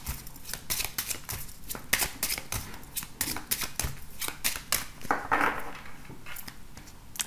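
Oracle cards being shuffled by hand for a daily love reading: a steady run of crisp riffling snaps and soft card slides, close and fairly quiet, with no talk.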